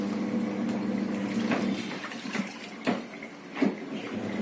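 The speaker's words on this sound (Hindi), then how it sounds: "और मेरे धुल रहे हैं इधर कपड़े। मशीन लगा रखी है मैंने।" A washing machine running a load of clothes, with a steady churning, sloshing water sound and a few louder surges as the drum turns.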